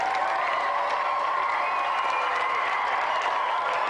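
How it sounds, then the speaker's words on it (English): Studio audience on the Gamesmaster game show applauds a departing contestant, steady dense clapping with some cheering, sustained and even for several seconds, no talk over it. "Round of applause for Christian."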